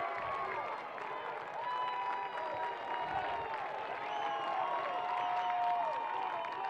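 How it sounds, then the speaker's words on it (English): A lacrosse crowd at an NCAA men's semifinal between Towson and Delaware cheers and applauds a takeaway, a distant arena roar with scattered clapping, with a steady tone running beneath. "Can hear the crowd start to shower their praises."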